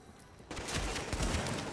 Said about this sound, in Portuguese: tomei um tiro e caí